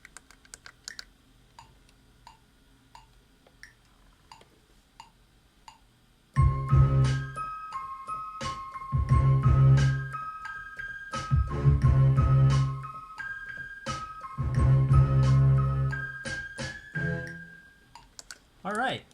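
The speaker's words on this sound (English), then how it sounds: "I got a nice little bell there." Bell tones programmed on a Korg M3 synthesizer workstation during beat making, bright repeating chimes over a loud drum pattern that kicks in after a quiet opening of soft ticks and faint talk.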